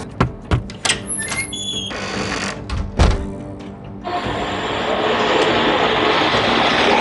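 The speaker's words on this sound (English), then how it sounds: "I can hear a train coming." A train approaches with a few heavy thunks and clanks, then builds into a steady rumbling roar as it rolls past.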